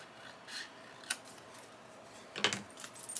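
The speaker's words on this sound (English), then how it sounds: "we're just going to trim the sides a bit." Scissors trimming the sides of a paper tag for a junk journal, heard as a few quiet, scattered snips and rasps spread over a few seconds with no voices.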